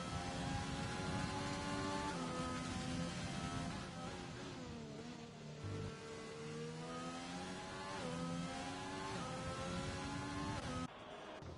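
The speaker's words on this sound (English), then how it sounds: "Here's SDQ in the McLaren" A McLaren Formula 1 car in the F1 2020 video game, racing at Bahrain, holds a loud, continuous engine whine. The pitch climbs through gears, dips briefly mid-run, then rises again until a sudden cut near the end.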